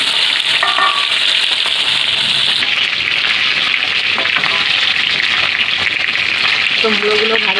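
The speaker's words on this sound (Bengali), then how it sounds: "এবার আমি মাছের মুড়োগুলো ভেজে নেব" Snakehead fish heads fry in hot oil, giving a loud, steady sizzle close by, with a few faint clinks and stirring sounds along the way.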